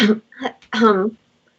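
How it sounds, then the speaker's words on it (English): A man clears his throat up close in a few short, voiced rasping bursts, performed as part of a narrated tabletop fantasy one-shot. "clear his throat."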